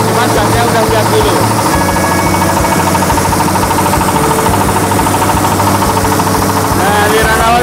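A rice milling machine's engine runs loud and steady nearby, a continuous low mechanical drone with rhythmic knocking and vibration, while a person talks over it.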